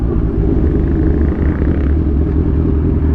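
A motorcycle engine idling as it warms up, a steady low rumbling drone, close and loud, with no talking.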